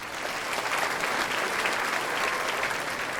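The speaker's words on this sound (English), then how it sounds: "Let's give Michael a round of applause" Audience at an MS symposium gives Michael a round of applause: dense, even clapping from a large room, loud and continuous without speech.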